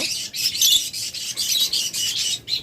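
Caged pet birds kept as breeding pairs call continuously in shrill, high chirps and squawks, a steady overlapping chatter close by with no voices.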